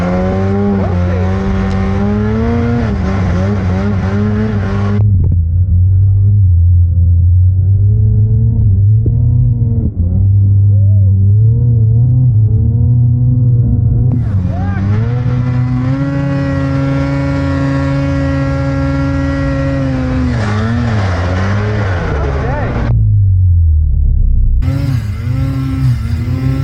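A snowmobile engine with an unresponsive throttle climbs a steep hill, droning loud and close, its pitch rising and falling, easing to a lower rumble, then surging higher before cutting out briefly near the end.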